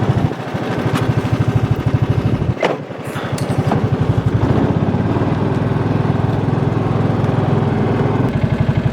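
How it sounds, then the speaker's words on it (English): Truck engine left running to charge its battery at a farmhouse, a loud, close, steady idle with a rapid chugging pulse throughout and no talking. "I'll just let that truck run for an hour to charge that battery up."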